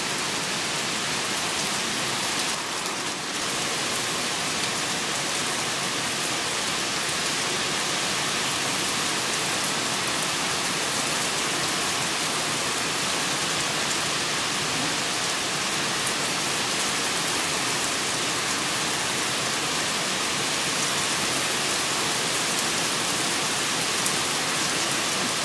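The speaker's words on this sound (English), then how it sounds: "Well, I can tell you, it's really raining." Heavy rain pours down in a dense, unbroken roar of falling water, loud and constant throughout with no voices.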